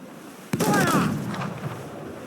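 Ship cannons in Assassin's Creed 4: Black Flag go off in a sudden loud boom, then a rumbling, crackling tail of further blasts fades away. A shouted voice carries over the fire.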